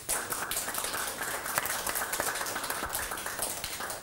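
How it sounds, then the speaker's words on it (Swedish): A studio audience on a Swedish-language bingo lottery TV show gives a round of applause. The quiet, crisp patter of clapping hands runs steadily for about four seconds. "Stora applåder."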